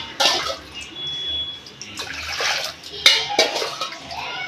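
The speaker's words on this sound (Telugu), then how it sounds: "అందుకని 3 గ్లాసులు నీళ్ళు వేస్తున్నాను." Three glasses of water splash and gurgle into a pressure cooker for broken-rice dumplings, close up, with a few sharp clanks of metal vessels between the pours.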